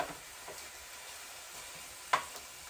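Ground beef fries in a pan for a creamy beef pasta as it is broken into small pieces, giving a faint, steady sizzling hiss with one brief scrape of the utensil near the end.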